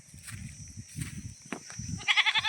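Goats bleat several times close by, ending in a quick run of higher, wavering calls over low shuffling background noise.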